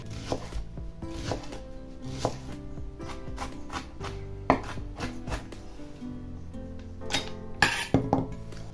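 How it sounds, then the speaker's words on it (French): A knife finely chopping a shallot on a cutting board: a rapid run of crisp close taps in uneven bursts with brief pauses, ending in a few sharper knocks. "je coupe l'échalote en croix. Comme ça, et après je la hache finement"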